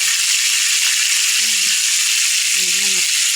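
Fish frying in a pan of oil, a steady broadband sizzle that runs throughout, close and loud, with two brief low tonal sounds breaking in partway through.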